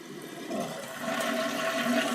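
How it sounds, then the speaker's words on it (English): An old toilet gives a short half flush, a steady rush of water that starts softly and swells louder, running on its own with no talk. "Does a half a flush to save water."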